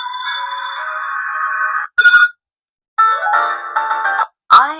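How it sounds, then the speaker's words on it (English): Lightsaber sound effects from an Asajj Ventress Proffie saber, tonal beeping hums resembling a 1990s–2000s cell phone ringtone, in several separate bursts with short gaps and sharp chirping ignition-like accents, no talk. "This all sounds like 90s, early 2000s cell phones."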